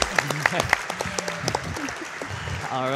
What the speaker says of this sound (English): give me a round of applause for Critical Sid and Sonic Colors